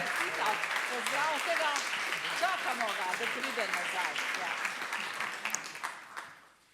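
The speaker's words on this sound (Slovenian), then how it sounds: "In še podaljšamo aplavz za fotografiranje" Applause from the audience at a closing award ceremony for the My Doctor 2022 campaign in Slovenia, dense and steady throughout, with voices audible through it, fading out toward the end.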